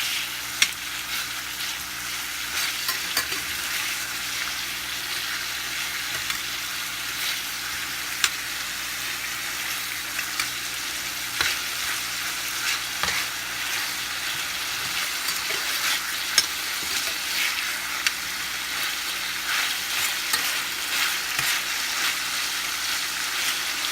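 Chicken pieces frying in a pan for a restaurant-style pepper chicken gravy, giving a steady, close sizzle with soft stirring scrapes throughout and no talking.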